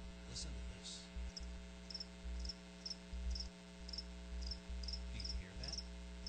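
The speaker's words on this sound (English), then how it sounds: "That's right, crickets." Cricket chirps used as a sound effect in a radio ad during an Erie Otters hockey broadcast, regular and repeated over a steady low hum, with no voices.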